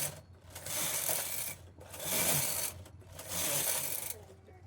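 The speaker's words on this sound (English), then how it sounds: "so I'm going to knit 4 rows" A knitting machine carriage is run across a flat bed of needles to knit rows of a tuck-pattern baby diaper cover, giving three long, sustained mechanical whirring passes with brief pauses between them.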